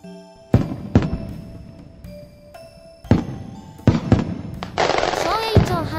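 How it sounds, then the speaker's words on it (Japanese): Sharp video game fireworks bursts pop one after another at irregular intervals, followed by crackling sparkle, with soft electronic tones in the background. "小栄町花火大会が始まったよ。"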